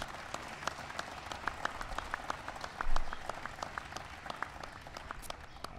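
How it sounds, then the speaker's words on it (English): Audience applause at a White House ceremony honoring a NASCAR Sprint Cup champion, steady dense clapping held at a moderate distance, with one brief louder swell midway. "give him a big round of applause"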